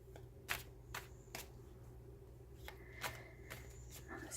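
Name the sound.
shuffling tarot cards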